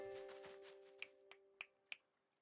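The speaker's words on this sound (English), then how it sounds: "Snapping my fingers, honey." Finger snaps, four crisp clicks spaced unevenly over a couple of seconds, close and clear above a faint steady hum.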